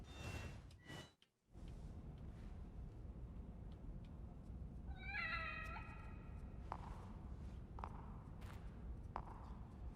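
A cat in the video game The Evil Within DLC gives one clear meow midway through, over a quiet bed of game ambience with soft thuds and footstep-like sounds.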